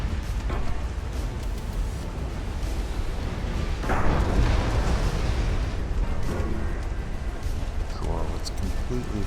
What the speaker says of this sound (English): Torpedo detonation